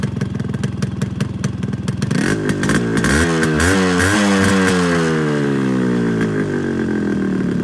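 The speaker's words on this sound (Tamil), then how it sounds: "இந்த ஒரிஜினல் மஃப்ளர் சவுண்டு பார்த்தீங்கன்னா எல்லாமே ஒரே மாதிரி இருக்கும்" Yamaha RX100/RX135 two-stroke motorcycle engine with its original muffler, idling with a crackly beat and then revving up hard in rising, falling pulls, loud and close, with no speech.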